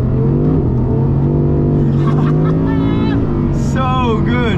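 A 2023 Audi R8 GT's V10 engine revs loud and close, its tone climbing through rising harmonic sweeps, with a voice briefly audible over it.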